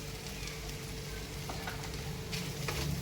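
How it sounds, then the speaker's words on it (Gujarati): Spinach sautéing in a pan with ginger-chili paste gives a continuous, even sizzle and crackle throughout, with a few faint scrapes of stirring and no voices. "પાલકને પણ આ રીતે આપણે સાતળી લઈશું"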